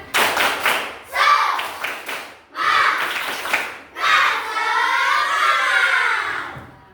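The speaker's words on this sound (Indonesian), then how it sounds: "Tepuk semangat." A classroom of students claps in a rhythmic pattern for an Indonesian lesson, loud sharp claps in quick groups mixed with the children chanting together in unison, the chanting growing longer toward the end.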